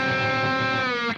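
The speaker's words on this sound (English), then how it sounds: "the first reason why you get a lot of string buzz" A loud distorted electric guitar note rings with several unmuted strings sounding together, giving a buzzy, cluttered sustain of string buzz before a quick rise in pitch at the end.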